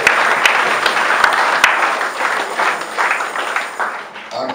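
Congregation applause at a Thanksgiving Sunday church service, a sustained, fairly loud patter of many hands clapping that carries on throughout and tapers slightly toward the end.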